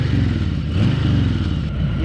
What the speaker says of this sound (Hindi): आप में से जिन लोगों को सुनना है कि हार्ली की आवाज़ कैसी है